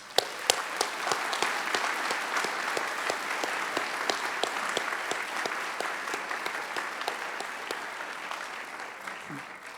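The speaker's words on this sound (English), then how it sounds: "Let's give all of them a round of applause." Sustained applause from a large audience at a 2017 Northwestern Engineering professional master's degree graduation ceremony, dense steady clapping filling the room for the full stretch without letting up.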